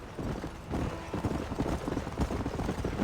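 Horse hooves clop along at a steady riding rhythm in the video game Red Dead Redemption, a close, continuous clip-clop over a low ambient bed.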